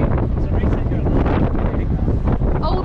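Loud, roaring wind gusting over 30 knots on a boat in a storm buffets the microphone continuously, a dense rumbling rush with a faint voice buried beneath.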